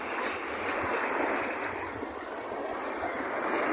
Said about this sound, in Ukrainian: Дуже люблю, коли море розмовляє, як воно і ці волни.